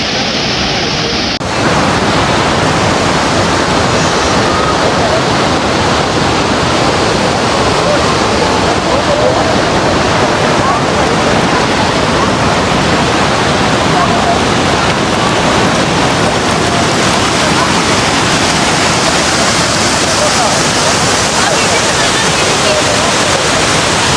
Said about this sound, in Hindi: मंठोका वाटरफॉल।